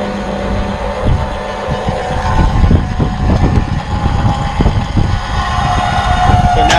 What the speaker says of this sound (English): So now you heard the motor engage.